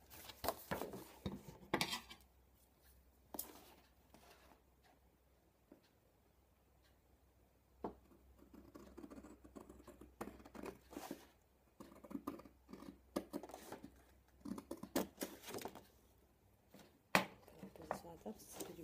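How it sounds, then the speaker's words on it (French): A single paper page is cut up to its middle with soft snipping and scraping in short bursts on a table, and a person talks quietly between the cuts. "Vous allez juste couper cette partie-là jusqu'au milieu, comme ceci."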